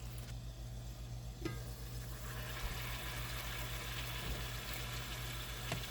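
Chicken strips simmer and fry in butter in a pan, a faint, soft sizzle with occasional small pops and clicks over a steady low hum.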